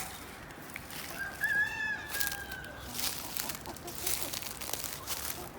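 Chickens in their yard cluck softly, and a rooster lets out a short crow, all faint and distant over a low background hiss.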